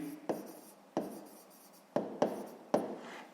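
Pen or pencil writing by hand during a sixth-grade maths exercise, several sharp scratchy strokes starting roughly every half second to second, close and fairly quiet, with no voices.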